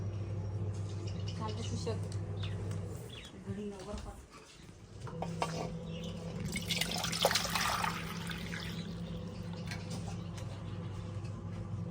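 Water is poured into a cooking pot of bitter gourd curry in a village kitchen, a short splashing pour heard under nearby talking.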